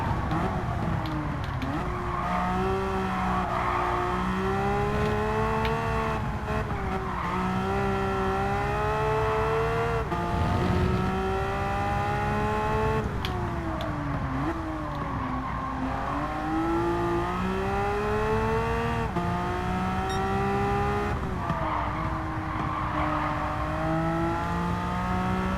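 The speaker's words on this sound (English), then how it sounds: "I just needed to hear that flat six." A Porsche 911 race car with a flat-six engine, without a racing restrictor, runs a lap in Gran Turismo 7, a loud continuous engine howl that rises and falls through repeated gear changes and throttle lifts, with no talk over it.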